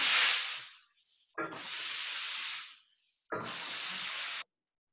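A Vapodil steam cleaner lets out three strong hissing blasts of steam, each lasting about a second, separated by short pauses, close and loud with no talking.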